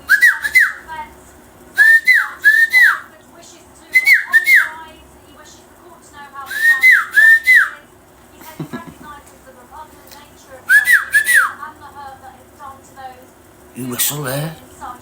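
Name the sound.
person whistling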